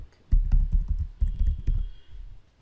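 Quick bursts of keystrokes on a computer keyboard as a root password is entered during a Linux install, close and clear, with two clusters of typing separated by a brief pause.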